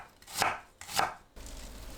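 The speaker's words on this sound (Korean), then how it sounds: "양파를 채 썰어주세요." Two crisp knife strokes slice an onion into thin strips on a cutting board, each a sharp chop with a brief scrape, then quiet.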